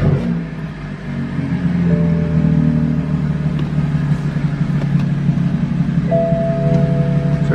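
A BMW 435i with a stage 2 turbo upgrade idles and revs inside a garage, a loud, close engine drone rising in pitch with a few sustained blips of throttle.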